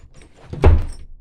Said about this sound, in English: And then opening the door.